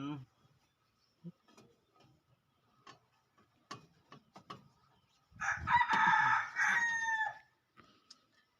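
A rooster crows once, loud and close, in a single long drawn-out call near the end, after a stretch of quiet scattered clicks and ticks.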